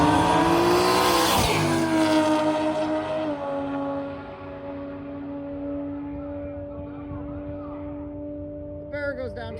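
A drag racing car with a naturally aspirated engine roars loudly at high speed, a sharp burst near the start settling into a sustained, steady engine drone that fades slightly as it passes.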